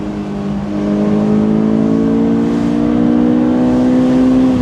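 A Honda S2000 2.2 engine revs hard and climbs steadily in pitch, a loud sustained high-revving scream close by.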